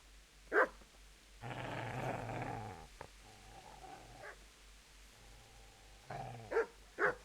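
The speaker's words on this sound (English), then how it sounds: "I hear a dog." A dog in Kingdom Come: Deliverance barks sharply, then growls in a low, sustained rumble, then barks again in a few bursts. The sound is moderately loud and heard without talk.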